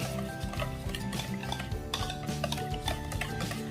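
Orange chiffon cake batter with orange zest is stirred in a bowl, a utensil scraping and clinking against the sides in quick repeated strokes, close and continuous.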